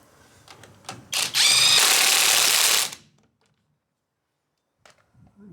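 A SEESII cordless 1/2-inch impact wrench on setting 2 spins briefly, then hammers in one loud sustained burst of about two seconds, with a few faint clicks of handling before and after.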